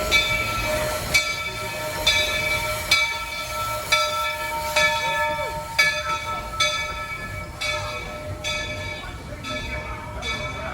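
Steady rumble of a moving train carriage at Magic Kingdom with periodic clacks from the rails, a faint bell-like ring, and voices murmuring in the background.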